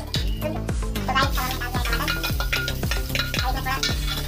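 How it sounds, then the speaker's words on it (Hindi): Tomatoes being stirred and fried in oil for spicy Maggi sizzle steadily while a utensil scrapes and knocks the pan in a regular, repeated rhythm, close and fairly loud. "फिर हम इसमें टमाटर डालेंगे।"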